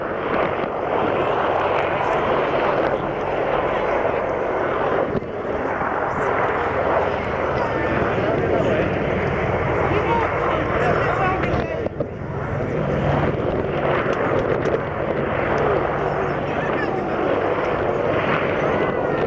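An Apache gunship helicopter flies past at a navy airshow, a loud, continuous roar of rotor and engine that swells and fades slightly, with an announcer speaking over it through the public address.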